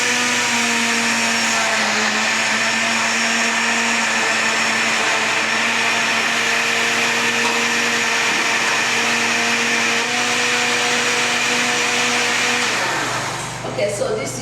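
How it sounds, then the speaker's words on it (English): A blender whirs steadily and loudly while blending fresh tomatoes and red chilies, a continuous motor drone with a rough churning texture that holds for the whole stretch before winding down at the end. "So I'm going to blend this."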